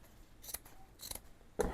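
Scissors snip through fabric being cut for a grungy vintage book cover, two short quiet cutting bursts followed by a sharper snip near the end.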